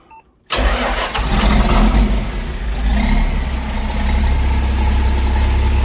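A John Deere 4430 tractor engine cranks and fires after a brief quiet moment, then settles into a loud, steady rumbling run close by.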